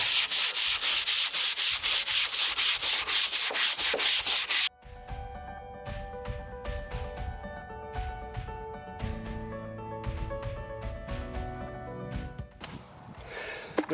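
A brush scrubbing a vehicle canopy with soap and water gives steady, loud, fast rhythmic rasping strokes for several seconds, then stops, leaving quieter knocks and clatter nearby.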